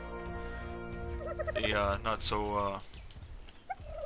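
Dodo bird calls in ARK: Survival Evolved, heard as a nasal, warbling gobble-like squawk in a few rising bursts, with a voice talking over and around the calls.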